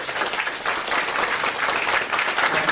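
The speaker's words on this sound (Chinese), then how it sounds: "我们是不是用最热烈的掌声" Applause from a seated audience at a business presentation, a dense, sustained wash of many hands clapping at an even, fairly loud level without letting up.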